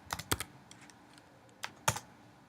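Computer keys are tapped in short bursts while numbers are entered, with a few quick clicks early, a pause, then two more crisp strikes, close and fairly quiet.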